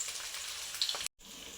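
Basale leaf curry tempering (oggarane) frying in hot oil, a steady close sizzle and crackle with one brief cut to silence partway through.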